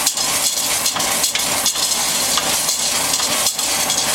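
Onions cook down in a pan on medium heat, giving off liquid as they reduce, with a steady loud sizzle and frying crackle that runs throughout, broken by a few brief stirring knocks.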